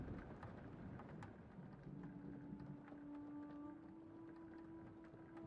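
Rain falls steadily in the game Flower, a dense soft hiss with scattered drops and a faint low tonal hum rising partway through, quiet and without talk.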